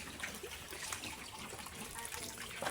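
Water poured and splashing over pigs to bathe them on a small farm, a faint, continuous trickling and spattering.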